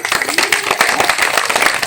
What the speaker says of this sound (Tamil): உண்மையிலே ஒரு கைத்தட்டல் கொடுக்கலாம்.